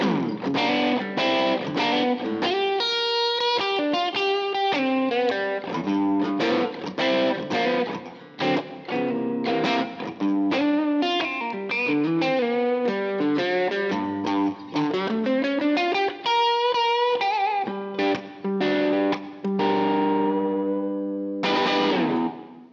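A Gibson SG electric guitar with both pickups and the tone rolled back plays a run of quick melodic notes and chords with a warm, softened tone, unaccompanied and close, ending on a sustained chord.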